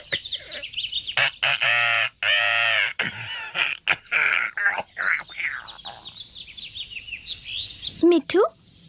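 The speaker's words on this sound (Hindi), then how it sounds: "ओह तोता, बहुत प्यारा है।" A cartoon parrot given from a zoo chirps and squawks in bright, rapid bursts, with a sharp call near the end, as children talk around it.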